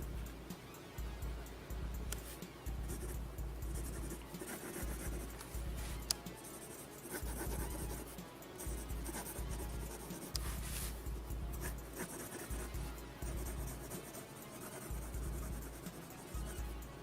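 Pencil scratching steadily across paper while a costume is sketched, a continuous close scribbling texture with brief pauses and no voices.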